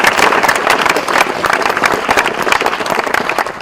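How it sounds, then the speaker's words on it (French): An audience claps loudly and continuously at a football academy event in Congo, dense applause filling the whole moment with no voices over it. "Donc on acclame pour le général Moigny."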